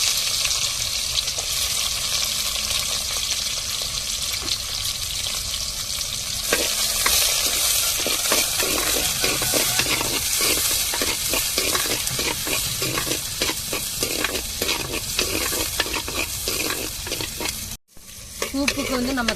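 Mustard seeds and shallots frying in oil in a clay pot over a wood-fired stove, a steady loud sizzle and crackle with repeated scraping strokes of a stirring spoon, ending in a brief pause.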